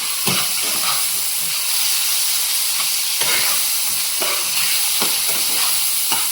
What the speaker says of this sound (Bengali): এবার একটু ভালো করে এটা ভাজা ভাজা মতো করি।